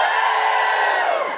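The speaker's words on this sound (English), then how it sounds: "Give us a cheer if you live here." Live comedy audience in Glasgow cheering: a loud, sustained roar of cheers and whoops from a packed room, tapering slightly at the end.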